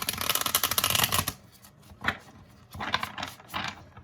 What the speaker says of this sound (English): Okay, Virgo, let's shuffle the deck.